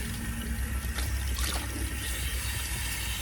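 Water runs steadily while rinsing a protein treatment out of hair, a soft, even rushing trickle with slight splashy variation, fairly quiet and uninterrupted.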